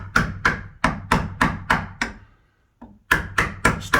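Chisel struck repeatedly into the wooden edge of a slab door to fit a knob: sharp, close, evenly spaced knocks in quick bursts, a short pause, then another run of blows.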